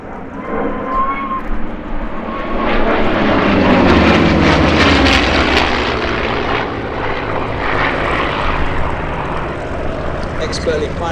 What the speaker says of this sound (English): Expertly piloting the P-51 is Eskil Amdahl